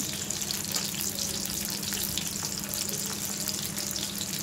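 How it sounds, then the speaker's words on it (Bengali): Chopped onion, garlic and ginger fry in a pan for a cauliflower dish, giving a steady, even hiss of sizzling oil that holds at a constant level throughout, with no voices. "পেঁয়াজটা দিয়ে দেবো, আর রসুনটা দিয়ে দেবো, আর আদাটা দিয়ে ভালো করে ভেজে নেব"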